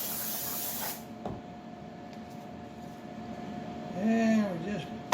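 A steady pressurized hiss of an aerosol glue spray runs throughout, with a brief shift partway and a louder burst near the end.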